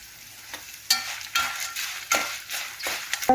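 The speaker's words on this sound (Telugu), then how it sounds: "మినపప్పు అది ఇలా దోరగా వేగుతుంది" Urad dal with a small lump of tamarind frying in a pan, soft sizzling broken by several distinct stirring scrapes spaced about half a second apart, close and moderately loud.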